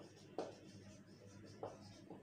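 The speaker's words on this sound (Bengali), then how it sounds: "তাহলে আমি এখন লিখব" Pen or marker writing during a maths lesson, faint scratchy strokes with a couple of slightly firmer taps or clicks against a quiet room background.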